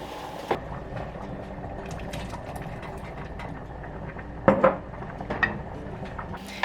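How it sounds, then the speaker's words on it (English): Diced, precooked canned carrots being drained and tipped into a cooking pot, with a steady low clatter and a few sharper metallic clinks near the end, close and moderately loud, no talking. "I'm just going to drain off the liquid and add these to the pot"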